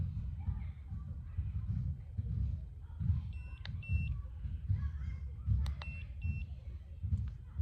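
Several short, high-pitched smoke alarm beeps sound in small clusters, fairly faint beneath a person talking.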